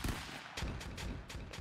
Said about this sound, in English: you're causing a lot of explosions right now